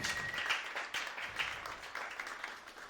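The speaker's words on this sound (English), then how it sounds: "Let's give a round of applause." Audience at a tech and media innovation event applauds the organizing team, a moderate, fairly quiet wash of clapping from a mid-sized room that continues evenly for a few seconds.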